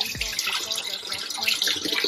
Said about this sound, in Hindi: ये धो लिया मैंने दो तीन पानी से और धो लिया